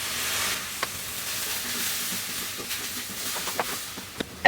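A cup of milk hits a hot pan while cooking Aflatoon sweet, giving a steady broad sizzle and hiss with light stirring clinks near the end, close and fairly loud with no talk.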